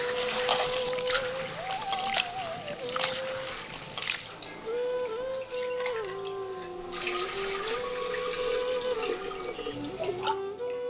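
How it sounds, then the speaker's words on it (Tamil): Water pours and trickles into a bowl while split pigeon peas (toor dal) are swished and rinsed, with small splashes and drips, fairly close and unhurried. "பருப்பை தண்ணி ஊத்தி கழுவிட்டு உலையில சேர்த்துருவோம்."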